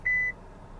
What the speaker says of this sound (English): safety systems beeping at me